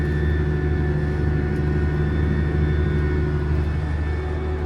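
Tractor pulling a seeder across a field on the first day of seeding, its engine a steady, loud low drone with a constant hum and no breaks, close up with no talking.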